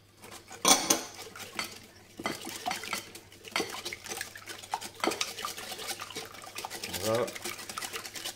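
Eggs and milk are whisked in a bowl for savory tuna-tomato muffins, with a utensil clinking and scraping against the dish in quick, uneven bursts while a voice talks over it.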